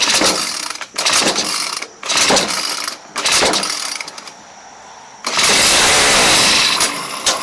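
A Craftsman 29cc 4-cycle weed wacker is pull-started again and again: sharp rattling cord yanks in bursts, then it fires into a loud, rough buzzing run for a couple of seconds before dying.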